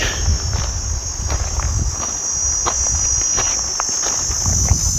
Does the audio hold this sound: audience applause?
no